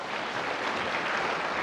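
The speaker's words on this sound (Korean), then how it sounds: "한번 좀 크게 박수로 환영해 주시기 바랍니다" A church congregation at a Korean Sunday worship service bursts into welcoming applause, a dense and steady wash of many hands clapping throughout, with no voices on top.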